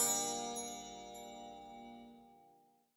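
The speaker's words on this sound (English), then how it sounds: "It's chime time." A chime struck once at the start, its bright ringing tone fading slowly over about three seconds with no other sound around it.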